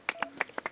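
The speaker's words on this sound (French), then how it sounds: "On applaudit" A few scattered, separate hand claps ring out close by at a high-altitude mountain rescue and medical post, about seven sharp claps in under a second, light and uneven rather than a full round of applause.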